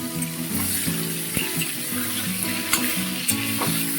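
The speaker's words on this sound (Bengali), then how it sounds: "সোয়াবিনগুলো দিয়ে দিচ্ছি, ভেজে নেবো।" Soybean chunks and potatoes fry in oil in a pan, a close, continuous sizzle with light stirring knocks, layered over a steady tonal hum.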